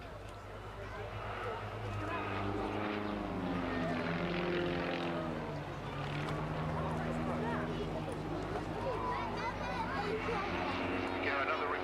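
A propeller aircraft at an air show flies an aerobatic stall turn, its engine droning and shifting in pitch as it climbs and turns, while a commentator talks over it throughout.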